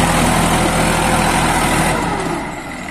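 A New Holland 3230 42 HP tractor runs close by with a steady, rumbling diesel drone that holds even, then eases off and quietens near the end.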